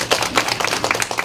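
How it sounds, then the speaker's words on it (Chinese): Applause welcoming a speaker at a public dialogue event: a brief burst of dense, moderately loud clapping from a small crowd, steady throughout. "我们热烈掌声欢迎他"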